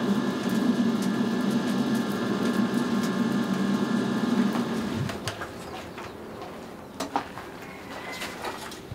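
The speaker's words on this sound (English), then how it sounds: "using a blower on a traditional Thai king furnace" A blower roars steadily into a traditional Thai furnace heating a zircon crucible, a dense hum that drops away after about five seconds, leaving faint clinks and handling noises.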